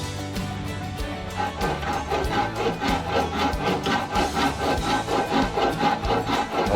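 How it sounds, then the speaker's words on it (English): A thin, flexible hand drywall saw cuts through wood for a longbow handle section, giving steady back-and-forth rasping strokes in a quick, even rhythm, close and fairly loud. "I like this little drywall saw."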